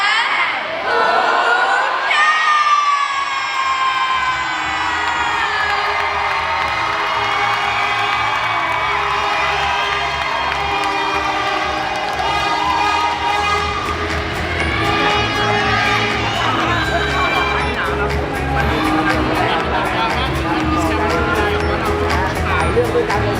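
An audience at the Miss Grand Phuket 2024 final show cheers and whoops loudly and steadily, with high shouts rising over the crowd noise and a voice over a loudspeaker mixed in throughout.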